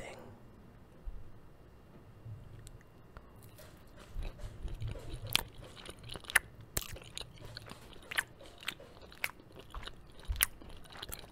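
Close crunchy bites and chewing of chicken strips served with lentils, soft at first, then sharp crisp crunches coming irregularly every second or so, very near and intimate, with quiet mouth sounds in between.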